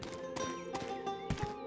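Horse hooves clop in the medieval video game Rustler, several distinct thumping steps over game music and ambience, moderately loud and close.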